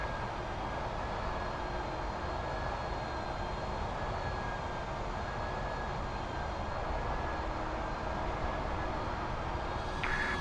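Steady, loud drone of an MD-11 airliner's engines while taxiing, with a faint whine riding over the low rumble throughout, from a flight simulator.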